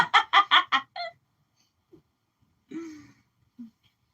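Hens cluck in a quick burst of about five loud, close calls, then go quiet apart from a few softer clucks and a drawn-out squawk.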